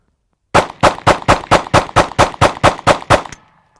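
A Springfield Hellcat pistol fires eleven rapid, evenly spaced loud gunshots in a steady string, close by, with no talk, followed by a brief faint ringing tail.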